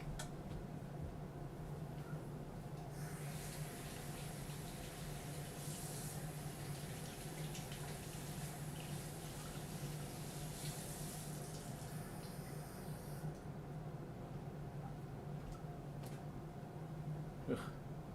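Water from a tap runs steadily into a cup for rinsing miniature-painting brushes, a continuous close hiss and gurgle that holds evenly for the whole stretch with no talking.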